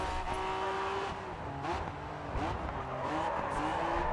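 A Honda race car in the racing game GRID 2 drives with a steady engine drone and wavering pitch shifts as it corners, with faint tire squeal mixed in and nobody speaking.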